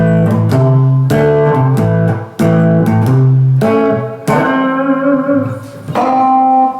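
Electric guitar with effects sliding up into a target note and shaking it with vibrato, played as several loud sustained notes with ringing harmonics, bending pitch and sharp attacks, with no talking.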